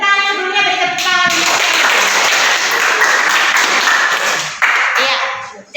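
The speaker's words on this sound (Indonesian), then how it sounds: "beri tepuk tangan dulunya, beri tepuk tangan." Students clap together in a classroom lesson, a loud, dense burst of applause that swells after a brief voiced moment, holds for several seconds and then breaks off abruptly.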